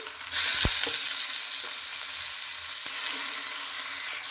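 Boiled radish pieces tipped into a pan and frying, a steady broad sizzle with a brief thump as they land, close and alone without talk.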